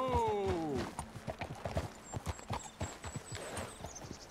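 Horses in the video game Red Dead Redemption 2 clip-clop steadily on the ground in a quick, even rhythm. The clip opens with a neigh, and faint background ambience sits under the hooves.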